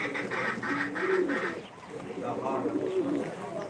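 Birds in a seller's collection coo and call in short repeated phrases, pigeon- or dove-like, close by, with people talking over them.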